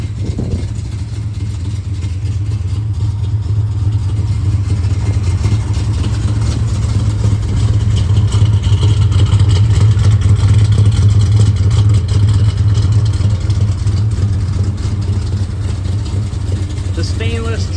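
A 1970 Ford Torino GT with a 429 Cobra Jet engine runs steadily, producing a loud, constant low engine rumble that fills the whole stretch without pause.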